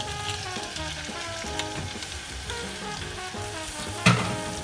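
Shrimp dropped into a hot pan for a pesto brandy sauce hiss and sizzle steadily and loudly up close, with crackling pops throughout and a sharp clatter near the end.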